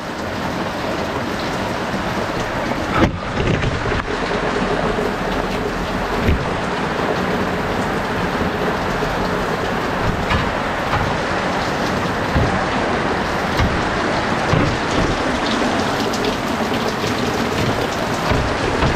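Steady heavy rain pours down continuously, a dense close-up hiss with occasional louder splatters and a faint low rumble underneath. Rain falling on stored items outdoors.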